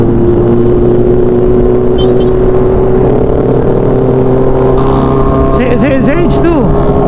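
A Kawasaki Ninja ZH2 with its stock muffler idles and hums steadily at close range, a constant loud engine drone with a slight rise toward the end, while people talk over it during a group ride in Santa Rosa, Laguna.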